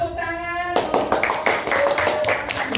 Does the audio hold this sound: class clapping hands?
yes